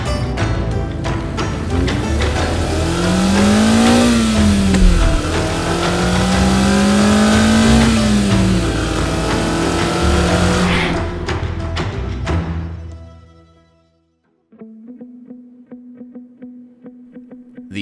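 A 2024 refreshed Mazda MX-5 Miata (ND) engine revs hard through rising and falling gear sweeps, loud and close for about twelve seconds, then cuts off into near silence before a softer steady idle-like drone returns.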